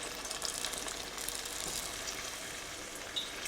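Garlic dough balls fry in hot fat with a steady, close hiss of sizzling oil that stays even throughout, carrying a few brief crackling pops.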